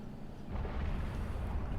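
Bombs from a Supreme Commander 2 air strike pound a target, giving a low, rumbling roar that swells midway and rolls on steadily, distant and muffled.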